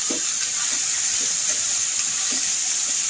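Snake gourd frying in a pan with turmeric for a pickle, a steady close sizzle and hiss with faint occasional stirring scrapes, no talk.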